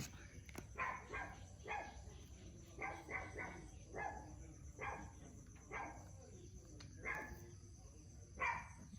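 A dog barks in short repeated bursts, somewhat distant and faint, at an irregular pace against an outdoor background with a faint high insect drone.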